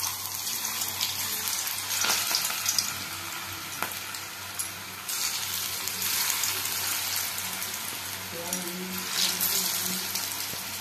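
Cabbage balls for chilli cabbage deep-fry in hot oil in a kadai, giving a steady, close, bubbling sizzle and hiss with small spatters. No one speaks.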